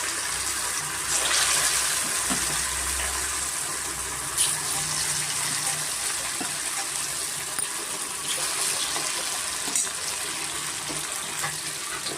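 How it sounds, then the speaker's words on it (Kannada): Garlic kabab pieces are lowered one by one into hot oil, making a continuous close sizzling hiss with occasional soft bumps as each piece goes in. "ಈಗ ನಾವು ಒಂದೊಂದೇ ಪೀಸು ಎಣ್ಣೆಯಲ್ಲಿ ಬಿಡೋಣ"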